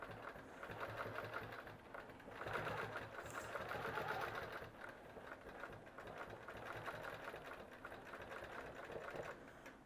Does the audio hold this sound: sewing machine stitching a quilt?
yes